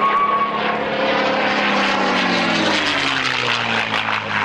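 A propeller aircraft drones overhead at an airshow, its engine note steady and loud, then gradually shifting lower in pitch as it passes.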